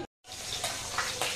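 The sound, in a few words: fish frying in a pan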